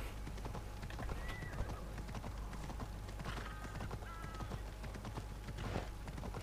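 Horse hooves clip-clop through a gallop in Assassin's Creed Odyssey and slow as the mount brakes by itself, with a short whinny heard over steady game ambience.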